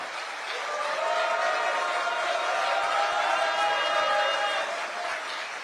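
A large crowd at a Democratic Party presidential campaign launch rally in South Korea applauds and cheers continuously, a dense, steady roar of clapping and voices that holds level throughout.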